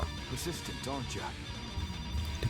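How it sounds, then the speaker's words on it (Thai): A telephone rings in The Phone game, a ringing tone heard in short bursts over a busy, noisy game background while a person talks over it. "โทรศัพท์อีกแล้ว"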